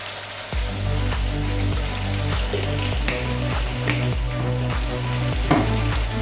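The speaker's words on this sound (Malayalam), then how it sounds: "അതിലേക്ക് നമുക്ക് കുറച്ച് വെളിച്ചെണ്ണ ഒഴിച്ചു കൊടുക്കുക" Coconut oil poured into a hot pan for a chicken curry, breaking into a loud, close, steady sizzle with crackling spits throughout and occasional clinks, no voices.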